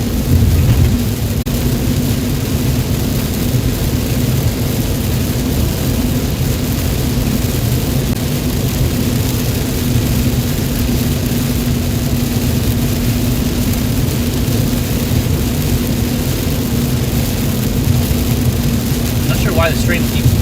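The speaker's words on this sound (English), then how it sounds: "Just pretty heavy rain and some lightning." Heavy rain pours steadily in a thunderstorm over the Dallas area, a loud, constant wash of noise throughout with no distinct thunderclap standing out.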